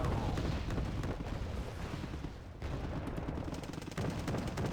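Gunfire from a BMP-3 infantry fighting vehicle in the Cold War strategy game Wargame Red Dragon, dense rapid bursts mixed with explosions in a continuous battle din, fairly faint.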